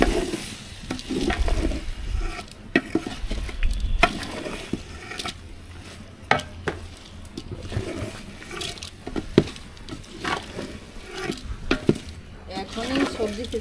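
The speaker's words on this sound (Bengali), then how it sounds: "এবার চালটা দিয়ে একটু নাড়িয়ে চাড়িয়ে ভালো করে" Rice for vegetable khichuri frying in a pan gives a continuous sizzle with frequent sharp scrapes and knocks of stirring. The sounds are close and moderately loud, with no talk.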